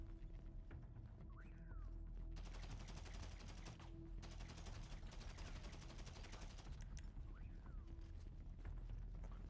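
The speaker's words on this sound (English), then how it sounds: "They do keep quiet as long as you keep shooting at them." Sustained automatic gunfire in GTA 5 during the Cayo Perico heist, dense rapid bursts rattling on for several seconds with short gaps, steady and fairly close, with no talk over it.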